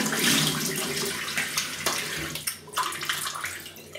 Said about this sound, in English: let me have a quick rinse